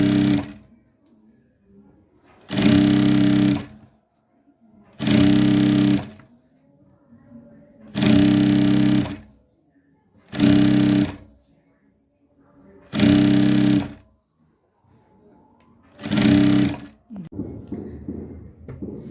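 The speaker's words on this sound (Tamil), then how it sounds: "அதே ஒரு இன்ச்சு அப்படியே மடித்து தையல் போட்டுக்கோங்க" A sewing machine runs in about seven bursts of a few seconds each, stitching a folded one-inch hem on cross pants. Near, steady whirring is separated by short quiet pauses.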